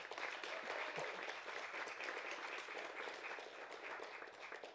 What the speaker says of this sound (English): So let's give a round of applause for Tia.